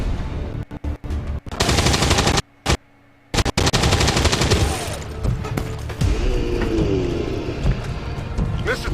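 Gunfire rings out in the strategy game XCOM 2, dense bursts of automatic shots with short gaps, followed by a booming tail and lingering mechanical game sounds.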